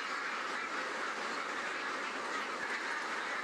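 Ducks in an indoor broiler shed, a dense, continuous din of many birds quacking and calling at once, steady and loud throughout with no pauses.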